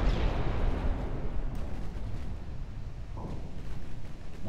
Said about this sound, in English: these are battleship guns that are finishing them off